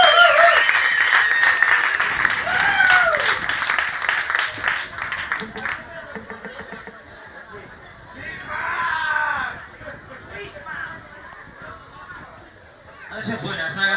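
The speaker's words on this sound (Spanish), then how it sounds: "Un aplauso para él." Audience applause rises loudly at a live music event, fading after a few seconds, followed by whoops and scattered crowd noise, with people talking intermittently under it.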